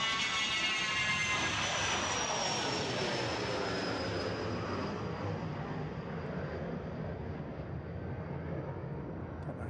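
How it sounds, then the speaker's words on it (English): A tri-jet airliner takes off at Dallas Love Field, its engines a loud, continuous roar with a high whine that slowly falls in pitch as the jet pulls away, growing gradually fainter with no voices. "Our second tri-jet takeoff of the day."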